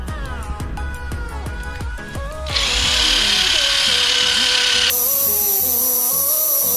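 A power polishing machine buffs the metal of a classic Zephyr 750 motorcycle with Blue Magic polish to a mirror finish. It starts with a tonal whirring, then jumps to a loud, steady high-pitched grinding whine close by.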